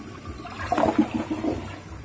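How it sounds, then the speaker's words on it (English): A newly installed toilet flushes once, a close gurgling rush of water that swells and then drains away, with no voices. "Give it a couple flush."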